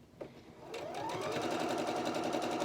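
A sewing machine stitches fabric for a quilt block, starting with a soft click and then running in a fast, even, close mechanical chatter that speeds up and holds steady.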